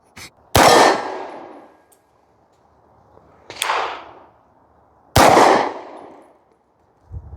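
Three sharp pistol shots from a 17-round handgun ring out at well-spaced intervals, each with a bright metallic clang off a freshly painted steel target, then a decaying ring.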